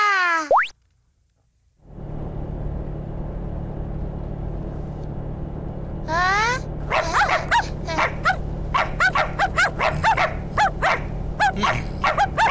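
A cartoon dog barks repeatedly in quick, bouncy bursts after a short quiet stretch, with a cartoon sound effect at the start, loud and close over a low background hum.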